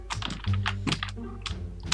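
A loud computer keyboard clatters with rapid, uneven keystrokes and thunks, close to the microphone with no talk over it.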